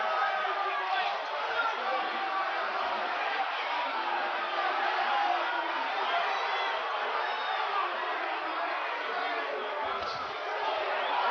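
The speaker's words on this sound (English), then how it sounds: "they are yelling Tyson, Tyson" Boxing arena crowd at the 1987 Mike Tyson vs James "Bonecrusher" Smith fight, yelling and chanting Tyson's name, a steady loud roar sustained throughout with no pauses.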